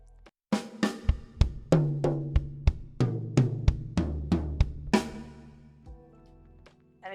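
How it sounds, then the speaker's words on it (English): Beginner drum fill played around a kit on toms, bass drum and snare: a dozen or so close, resonant hits at an even pace, with the ringing toms decaying at the end. "We're going to play 2 notes on the second tom and 1 note on the bass drum."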